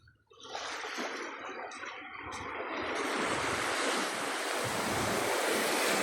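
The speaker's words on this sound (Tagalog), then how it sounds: "Ito yung dagat." Sea waves at the Caramoan islands roll in as a broad, continuous wash of surf, building louder after a quiet start, with heavy wind buffeting the microphone.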